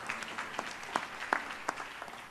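A worship-night congregation claps in a steady, loosely rhythmic pattern, with individual sharp claps standing out above a continuous crowd patter.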